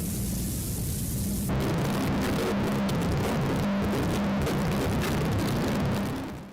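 A noise music recording, with a quieter stretch suddenly giving way to a loud, dense wall of harsh distortion that stays sustained and abrasive until it cuts off.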